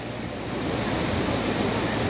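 Steady broadband rush of a mountain stream flowing hard, swollen by rain, in Şalpazarı, Trabzon, continuous and fairly loud throughout, with no voices.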